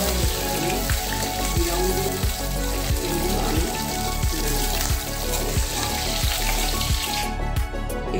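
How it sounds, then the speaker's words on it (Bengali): Chicken pieces deep frying in oil give a loud, dense and continuous crackling sizzle that holds steady for the whole stretch, close and without talk. "এরপর আমি দেখুন নেক্সট রাউন্ডটাও ভেজে নিচ্ছি"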